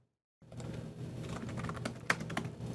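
Typing on a computer keyboard while setting up code, a quick run of close, light key clicks starting after a brief silence, with one sharper tap near the end.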